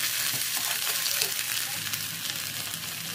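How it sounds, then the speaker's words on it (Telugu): Ginger garlic paste and spices frying in a pan for cheesy chicken pav, a steady close sizzle with faint stirring scrapes running throughout, no voices. "ఇది కొంచెం ఫ్రై చేసుకొని మసాలాలు వేసుకున్నాం"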